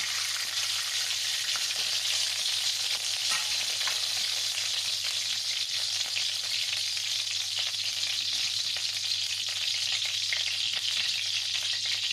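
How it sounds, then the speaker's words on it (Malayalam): Ghee sizzles steadily in a hot pan for biryani, a bright, even crackle that fills the space without pause, close up and with no voices. "ഒരു ടീസ്പൂൺ നെയ്യ് ഒഴിച്ച്"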